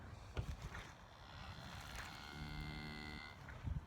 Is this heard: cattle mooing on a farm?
yes